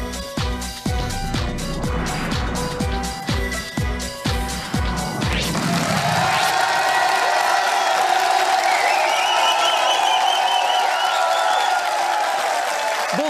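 Studio audience applause on the set of the Belgian RTL TV game show Septante et un (71), a dense, loud burst of clapping with some sharp hits that then settles into a sustained, steady roar of crowd applause while music plays.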